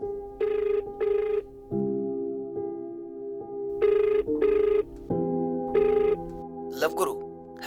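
Telephone ringing for an incoming caller on a Hindi love-advice radio show, several repeated ring bursts with gaps, fairly loud over a steady music bed, with brief voice-like sounds near the end.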